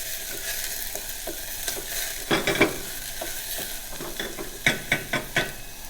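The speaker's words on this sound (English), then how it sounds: "Going to stir those around a little." Vegetables and celery sizzle steadily in a pan while a utensil stirs them, with a handful of sharp scraping clicks against the pan, close by and alone without talk.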